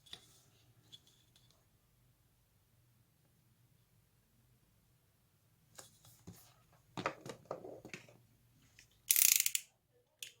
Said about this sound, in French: il y a un tout petit bord ici que je vais enlever au cutter